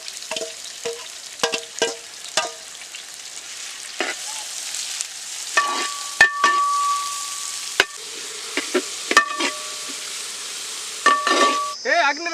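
Sliced large onions hit hot oil in a pan already holding whole spices, giving bursts of sizzling frying with stirring scrapes and occasional light metal clinks, fairly close and recurring in short waves.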